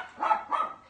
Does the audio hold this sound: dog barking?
yes